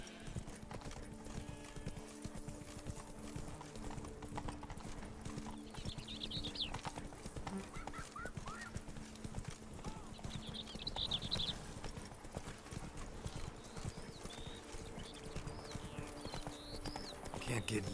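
Horse hooves clip-clop in a steady, even rhythm while riding through The Witcher 3, with quiet background ambience, occasional neighing and speaking voices over the top.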